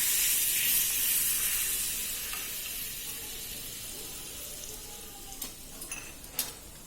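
Hot oil tempering with fenugreek seeds and asafoetida hisses and sizzles into a chilli chutney. A strong initial sizzle fades to a softer, steady crackle, with a few small pops and ticks near the end.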